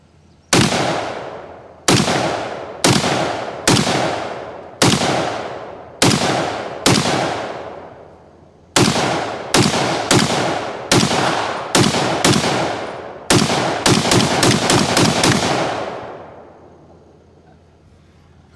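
Gunshots from a Cyelee Bear pistol at a shooting range: loud, sharp single shots with ringing decay, spaced irregularly at first, then a rapid string of closely spaced shots before fading out.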